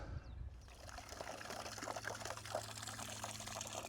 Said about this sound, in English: I can put some extremely clean water from the tap there in my washing bucket.